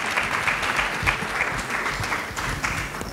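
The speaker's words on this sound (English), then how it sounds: "A round of applause for him," An audience at an HR forum panel discussion applauds steadily throughout, a dense, even wash of many hands clapping with no talk over it.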